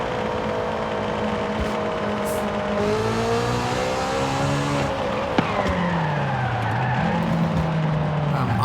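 A Honda S2000 AP1 in Forza Horizon 5 downshifts with engine revs rising and falling, and tires squeal loudly and continuously as it runs a drag tune.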